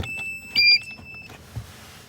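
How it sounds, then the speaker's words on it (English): An OBD2 tuning device plugged into a Mercedes-Benz C300 W204 beeps, with a few short electronic tones close by, one louder than the rest, in a quiet interior. "just wait for it to beep"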